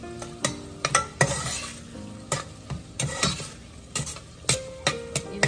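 Garlic cloves sautéing in a pan for a Tamil fish curry (meen kuzhambu), with a steady sizzle under repeated sharp scrapes and clinks of a spoon stirring against the pan.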